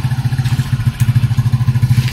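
Motorcycle engine running at a beach, a close, loud, steady low thumping putter with a fast even pulse, alone without talk.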